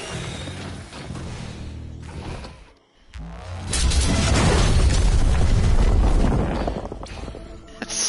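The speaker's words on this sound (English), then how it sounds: "It's just an explosion in your ear." A loud, booming explosion in the video game Risk of Rain 2 swells into a long, dense roar that holds for several seconds before tapering off.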